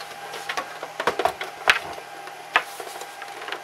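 Plastic top cover of a Sega Master System lifted off after its screws are removed, the shell tending to stick near the power button; scattered close plastic clicks and creaks with a couple of sharper snaps, no talking.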